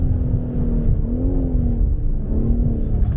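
A BMW M4 Competition G82 accelerating on the Le Mans Bugatti circuit, a loud, close engine drone rising in pitch with a brief dip and climb as gears shift, alone without talk.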